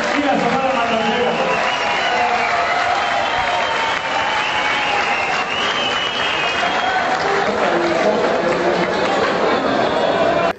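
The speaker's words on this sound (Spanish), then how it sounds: "Eso merece un aplauso grande para Ramón Rojo, el sonido de la changa y la Sonora Matancera" Applause for Ramón Rojo, Sonido La Changa and the Sonora Matancera, with loud, continuous clapping that is mixed with talking voices throughout.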